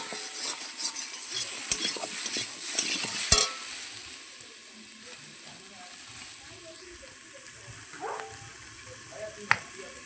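Chilli-powder-spiced masala sizzles in a pan as water is poured in, with a burst of scraping and clinks early on before the hissing settles into a quieter, steady bubbling with occasional faint knocks.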